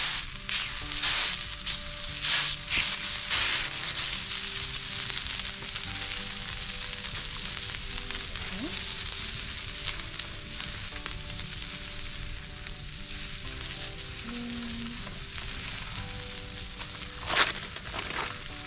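Bacon frying in a pan at a campsite, a steady loud sizzle with crackling pops that runs the whole time, with a few brief thuds and movement noises and no talking.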